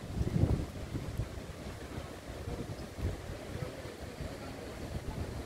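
Waves and wind on a beach at Boa Viagem in Recife, heard as a low, gusty rumble of surf and wind buffeting the microphone, fairly faint and continuous.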